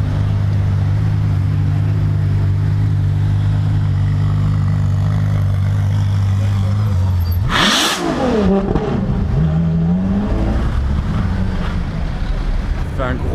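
Grey LaFerrari supercar passing during the Monaco Grand Prix, a steady low engine drone that swells into a loud close roaring pass-by with a sharp pitch drop, then fades into continuing traffic rumble.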